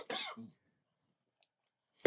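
A person coughs once or twice at close range, a brief rough burst at the start followed by quiet, with a faint click near the end.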